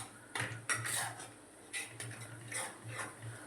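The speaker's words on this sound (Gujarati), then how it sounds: "બસ હવે એને હલાવી લઈએ, મિક્સ કરી દેવાનું બધું" A utensil stirring kaju paneer curry with garam masala in a pan over a low flame, a few scattered metallic scrapes and clinks at moderate level over a quiet background.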